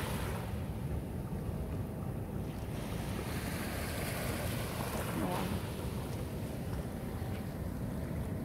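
Ocean waves wash onto the shore at Ypao Beach in Guam, a continuous rushing surf mixed with wind buffeting the microphone, steady and fairly loud throughout.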